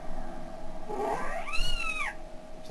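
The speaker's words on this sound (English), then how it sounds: "Sounds like a cat." A cat meows in the video game The Legend of Zelda: Skyward Sword, a single drawn-out rising and falling cry heard close over a steady background game tone.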